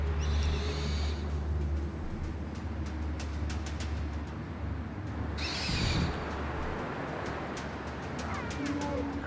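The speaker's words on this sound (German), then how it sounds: "jetzt muss ich meine Eule nochmal rausschicken hier" Owl call in the video game Far Cry Primal, a few soft hoots rising over a steady droning game ambience with repeated faint clicks, heard without speech.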